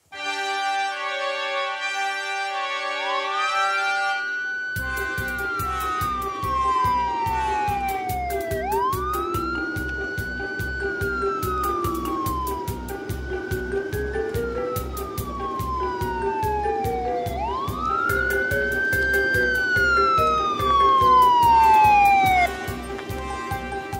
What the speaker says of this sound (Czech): A jak to bylo s tou houkající sanitkou?